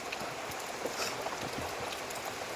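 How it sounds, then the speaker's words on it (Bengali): Continuous monsoon rain falls steadily outside while the listener stays upstairs indoors, a dense, even hiss with no breaks, moderately loud throughout. "বৃষ্টি এক নাগারে কন্টিনিউ হয়ে যাচ্ছে"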